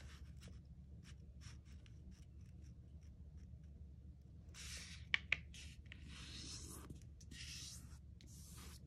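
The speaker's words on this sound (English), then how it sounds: "we're going to flip this paper over and fold it in half" A sheet of origami paper is flipped and folded in half, giving soft scattered rustles and brushing scrapes, then a louder sliding crinkle with two sharp crease taps near the middle, all quiet and without talk.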